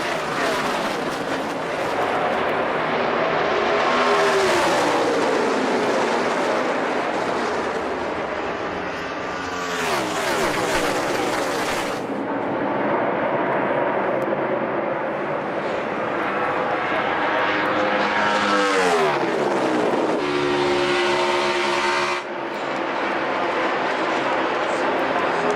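NASCAR race cars roaring around Chicagoland Speedway in 2014, loud engine drones swelling and fading as cars pass close, continuous and dense under commentators talking.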